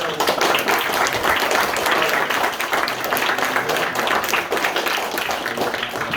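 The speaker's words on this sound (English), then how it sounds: "So give yourselves a round of applause." Dense, loud applause from a crowd at a youth football end-of-season presentation, steady clapping that carries on without a break for several seconds.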